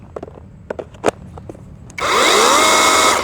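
A Nakita cordless electric chainsaw, shown with a 10-amp battery option, starts after a few quiet clicks and handling knocks, then runs as a loud, steady, close high-pitched whine with a rising then settling pitch.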